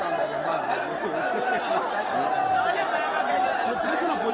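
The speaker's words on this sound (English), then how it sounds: "See the crowd." Crowd of protesters at a Days of Rage street protest in Nigeria, a dense murmur of many voices with chatter and scattered laughter, steady and fairly loud throughout.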